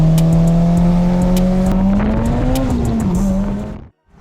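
A big-turbo Mitsubishi Evo X engine drones loudly from inside the car, holding a steady low note that climbs slightly and dips before cutting off abruptly near the end.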